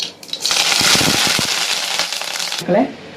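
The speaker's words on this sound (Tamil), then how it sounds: "கடுகு வெடிச்சிருச்சுங்க" Mustard seeds crackle and pop in hot oil, tempering for an Indian borage leaf thokku, a dense sizzling spatter that runs for a few seconds, ending with a brief voice.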